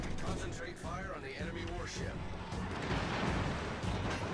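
Secondary guns of an Italian destroyer firing in World of Warships Legends, a dense, continuous rumble of overlapping booms and blasts, loud and steady, with game effects layered throughout.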